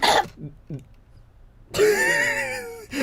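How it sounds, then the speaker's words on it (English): A brief cough-like burst near the start, followed by quiet, then someone talking close to the mic. "I didn't mean to pause mid-cough"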